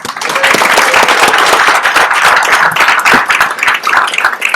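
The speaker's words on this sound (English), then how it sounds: "I think we should applaud you before I even say anything about you." Loud, dense applause from an audience at a startup demo day event, many hands clapping in a continuous crackling wash with no voices over it.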